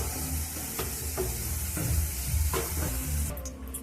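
Potatoes fry in oil in a kadai with a dense, steady sizzle close by, punctuated by soft scrapes and knocks from stirring.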